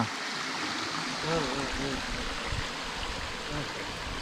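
Rushing water roars steadily nearby, a broad continuous wash, while a voice speaks briefly over it.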